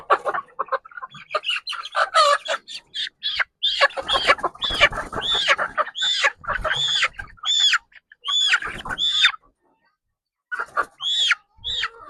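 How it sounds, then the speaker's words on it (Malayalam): Black Karinkozhi chickens on a farm cluck and squawk close by in repeated, irregular bursts of calls, with brief pauses and one short silence before the calling resumes. "ഇതാ കരിങ്കോഴി."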